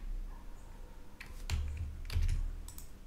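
Soft clicks of typing on a computer keyboard come in a few sparse clusters of keystrokes over quiet room noise, close and faint.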